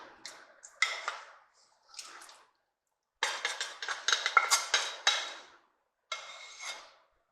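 A spoon stirs Southern shrimp stew in a pot, giving several bursts of clinking and scraping against the pot sides, separated by short pauses. The sound is close and moderately loud, with no talking.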